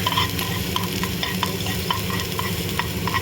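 Chopped garlic sautés in a hot pan, stirred with tongs for a chicken salad: a steady close sizzle with light metallic clicks and scrapes from the tongs at irregular intervals.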